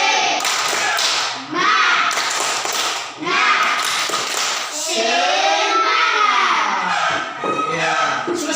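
A primary school class performs a rhythmic spirit clap together, bursts of group claps and taps in a chanted pattern mixed with children's voices calling along, loud and close.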